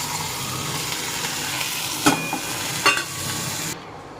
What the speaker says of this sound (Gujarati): અને શાક વઘારીએ આપણે જો કંટાઈ ફૂટી જઈએ અને આ વઘાર કરીએ આપણે.